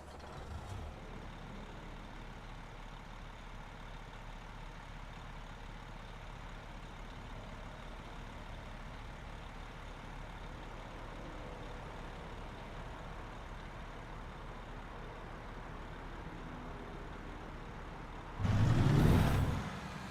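Original-style X15 engine sound on the Lonestar truck in a game mod: a faint, steady low engine drone that runs unchanged, then a sudden louder hissing burst near the end.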